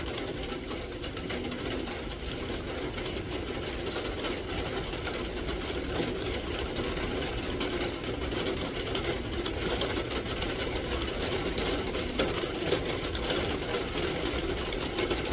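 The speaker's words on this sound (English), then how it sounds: "Let's go ahead and get this thing welded." A steady, continuous hiss and buzz of welding on a metal piece carries through the whole stretch at an even level, with no pauses or talk.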